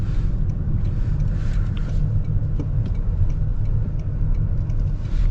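A 2026 Toyota Crown Nightshade hybrid accelerating in sport mode, heard from inside as a steady low engine and road rumble that holds even and fairly loud throughout.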